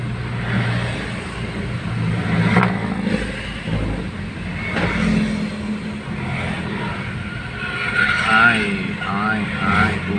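Slow, congested road traffic during the morning rush hour, with a continuous low rumble of engines idling and creeping nearby, and a person talking over it.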